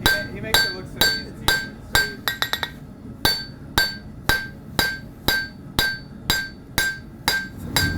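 Hammer strikes ring out on an anvil while a knife blade is forged, a steady, loud rhythm of sharp metallic clangs roughly twice per second with a quick flurry of lighter taps partway through.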